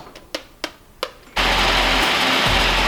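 A few soft knocks, then a blender starts up with a loud, steady whirring roar that fills the rest of the clip.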